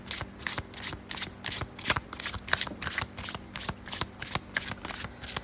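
Tarot cards riffled in a quick, regular shuffle, each burst a crisp papery flutter repeating about every third of a second, close and clear with no talking.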